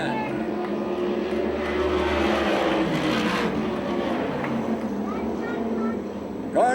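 USAC/CRA sprint cars race to the finish at Phoenix, Arizona, their engines roaring loud and continuous and rising and falling as they pass, with a crowd and announcer audible underneath.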